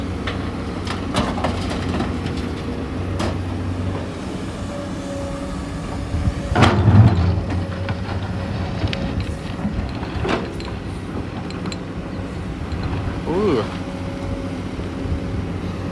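A Komatsu PC200-8M0 excavator engine drones at high revs in power mode while scraping hard laterite rock, a steady low rumble with a hum running throughout and a louder surge midway.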